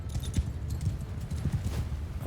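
Cavalry horses moving in Mount & Blade II Bannerlord, a dense rumbling clatter of many hooves close by, steady throughout with no talk.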